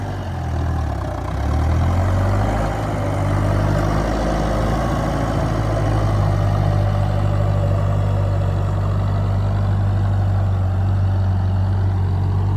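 A red Massey Ferguson MF440 tractor idles nearby, a steady deep rumbling drone with a low even throb that holds constant and loud throughout, with no voices.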